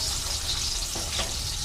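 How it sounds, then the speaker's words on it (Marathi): Eggs frying in a pan with a steady close sizzle, and a couple of soft scraping stirs near the end. "अंडे फ्राय होत आहे"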